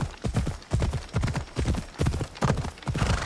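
A horse gallops in the video game Assassin's Creed Odyssey, rapid rhythmic hoofbeats in repeating clusters of thuds, close and fairly prominent with no talk over them.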